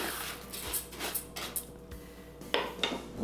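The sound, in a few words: stirring brown and white jasmine rice in a rice cooker pot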